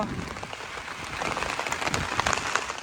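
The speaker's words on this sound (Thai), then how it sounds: "ฝนก็ตกนัก" Heavy rain pours down during a stormy fishing trip, a dense, continuous hiss of drops striking surfaces that stays loud throughout with no talk.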